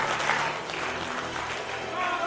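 A professional wrestling crowd applauding in respect for Debbie Malenko and Masha Slamovich, a steady wash of clapping that holds evenly throughout and mixes with a low murmur of crowd noise.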